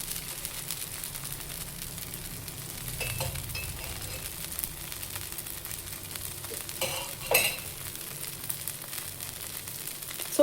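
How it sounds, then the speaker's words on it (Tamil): Kanji dosai fries in oil on a pan, giving a soft, steady sizzle with a few scraping and tapping touches of a spatula, fairly faint throughout with no voices. "ஸோ 2 பக்கம் நல்லா கொஞ்சம் எண்ணெய் வந்து எல்லா சைட்லேயும் விட்டுடலாம்"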